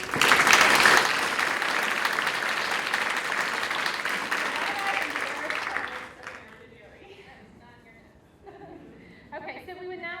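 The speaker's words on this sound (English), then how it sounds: "So please indulge me and just give them a round of applause for me." A school board meeting audience in Humble ISD gives sustained applause that fades out after about six seconds, followed by quiet room sound and brief talk.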